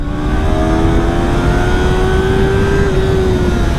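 A sport motorcycle, a Yamaha R3 or Ninja 400 with a 13,000 RPM redline, revs hard, its loud, close, high-pitched engine whine rising steadily then easing slightly near the end, with no talk.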